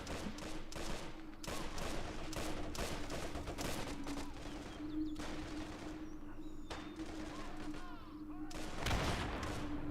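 Machine gun fire in a 1v1 tournament match of a modded strategy war game, rapid rattling bursts of gunfire over a steady background hum, fairly faint and continuous throughout.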